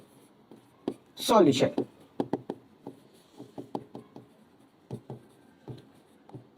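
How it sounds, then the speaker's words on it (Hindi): Pen or marker scratching out a maths solution on a board or page, with a burst of quick scribbling then a run of short taps and strokes, close by, while someone speaks briefly. "सबसे पहले लिखते हैं हम लोग"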